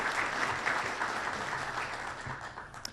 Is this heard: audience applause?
yes